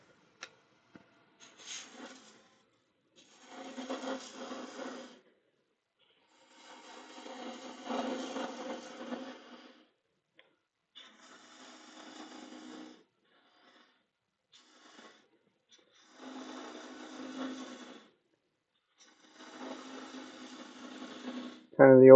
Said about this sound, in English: I know my bowl gouge will actually do this quicker